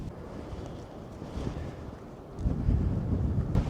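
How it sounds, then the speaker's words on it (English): Wind blowing over a reservoir in northern Spain, a steady rumbling buffet against the microphone that swells louder partway through, with no voices heard. "The wind's got right up and we're stuck on the other side of the reservoir."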